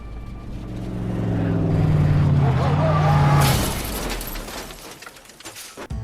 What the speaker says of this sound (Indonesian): David pun membunuh sang bokap dengan menabrakkan mobil yang dikendarainya ke mobil bokapnya Anna